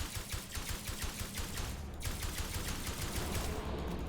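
Rapid bursts of automatic gunfire from a weapon in the sci-fi survival video game Osiris: New Dawn, shooting at crab-like alien bugs, a steady, loud, tightly spaced stream of shots running throughout with no talk.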